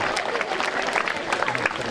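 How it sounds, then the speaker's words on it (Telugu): Applause from an audience at a Teach for Change education event, dense steady clapping running throughout at a moderate level with some crowd noise mixed in. "బలవంతంగా చప్పట్లు కొట్టించినట్టుంది"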